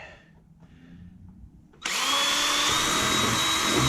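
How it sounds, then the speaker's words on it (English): After a quiet moment with faint sounds, a power drill whirs up suddenly and keeps spinning loudly and steadily through to the end, drilling a hole in a plastic scooter body panel. "I'm going to drill a hole right in this body panel right here"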